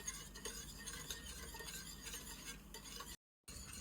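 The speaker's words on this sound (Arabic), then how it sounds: "اول ما يبتدي يغلي ويبقبق كده قدامك هشيله من على النار." A sweet dessert mixture cooks in a pot on the stove, giving a faint, steady bubbling and sizzling hiss with soft scraping from stirring. No one speaks.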